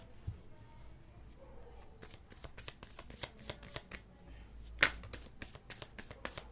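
Tarot cards are shuffled and drawn by hand in quick, crisp riffles and flicks, close and fairly quiet, with one sharper snap partway through.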